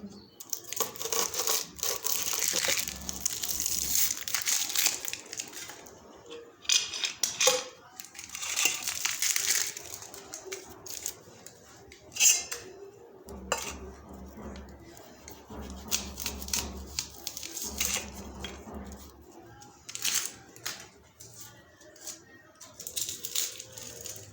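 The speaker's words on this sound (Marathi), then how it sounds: "हे पहा पहिल्यांदा आपण कांदा चिरून घेऊ" Onion and raw mango being chopped with a knife on a board, rapid close crunchy cuts in dense bursts with brief breaks, and a voice talking faintly in places.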